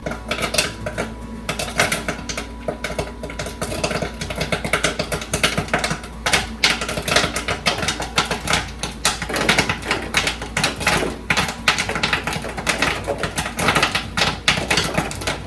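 Dense rapid popping and rattling of kettle corn kernels bursting inside a popcorn machine's metal kettle, continuous and busy, with clattering hits throughout.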